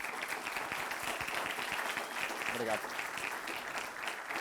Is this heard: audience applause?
yes